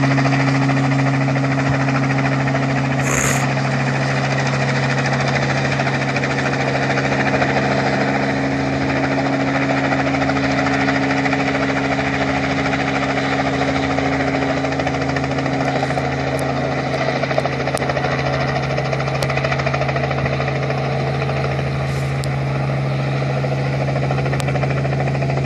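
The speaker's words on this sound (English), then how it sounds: "Quite the colorful helicopter." A brightly colored helicopter hovers low over a cherry orchard, its rotor wash blowing rainwater off the trees in a loud, steady, continuous drone with a constant engine whine and no talking.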